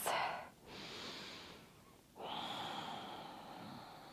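Deep breaths during a yoga exercise for diastasis recti: a slow, close inhale and a longer exhale, airy and soft, with no talk.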